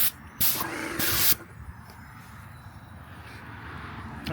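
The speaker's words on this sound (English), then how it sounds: "We got the big sprayer all hooked up and primed and ready to go" A big paint sprayer on a house exterior makeover releases two loud, close hissing bursts early on, then cuts off, leaving a quiet background.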